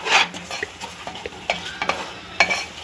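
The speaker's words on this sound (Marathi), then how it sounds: "आणि आता हा आपण दलिया जो आहे तो छानपैकी आपण परतून घेऊयात" Broken wheat (daliya) being roasted and stirred in a pan: a continuous soft sizzle with repeated scraping strokes of the spoon against the pan, close and even in rhythm, with no talking.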